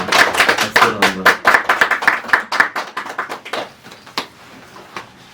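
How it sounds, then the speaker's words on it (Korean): A literary concert audience breaks into brisk, dense applause for a poet about to read, loud at first and thinning into scattered claps before fading toward the end. "박수로 한번."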